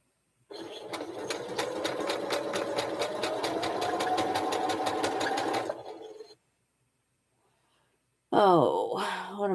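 Sewing machine stitching in a steady rapid run for several seconds, close and loud, then stopping; after a pause a voice speaks.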